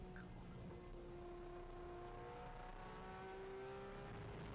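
A Porsche GT3 Cup race car engine roars continuously and loudly at Utah Motorsports Campus, its pitch climbing steadily as it accelerates, with no voices.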